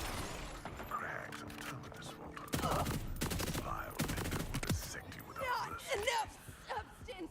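Rapid bursts of automatic gunfire from a fast-firing gun in Borderlands, loud sharp volleys cutting in and out, with someone talking over and between the shots.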